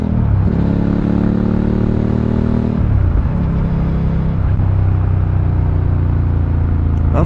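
A 2025 Suzuki SV 650 motorcycle being ridden, its engine note steady and loud throughout with shifting pitch as it accelerates and changes gear, the rumble continuous and close with no voices.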